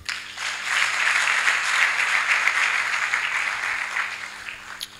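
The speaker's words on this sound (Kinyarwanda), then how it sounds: "mumumpera amashyi" A gathered audience claps for Mucyo as he stands up, a steady close round of applause that swells quickly and holds for about four seconds before cutting off near the end.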